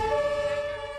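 A German ambulance siren heard on the grounds of Munich's Theresienwiese, a single brief, steady high-pitched wailing tone, clear and fairly close, with faint traffic rumble beneath.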